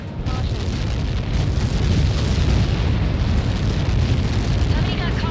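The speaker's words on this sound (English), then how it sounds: "Somebody got caught in that explosion." An explosion on impact in the Ace Combat 7 combat flight video game: a dense, sustained roaring rumble of blast and debris that stays loud and steady throughout, with no clear separate bangs.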